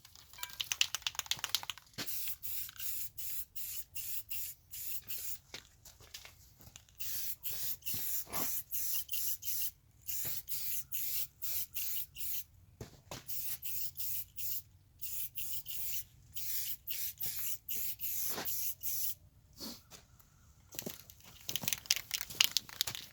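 Repeated short bursts of aerosol spray paint hiss from a poorly spraying can, close and fairly quiet, with brief pauses between squirts and faint rustling.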